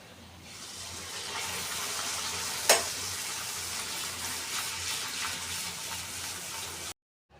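Puris deep-frying in hot oil in a home kitchen early in the morning, a steady close sizzling hiss with a sharp crackle burst near the middle, ending abruptly in silence.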